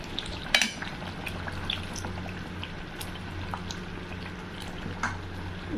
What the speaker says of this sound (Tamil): இது புளி நம்ம ஊற்றிக்கலாம்.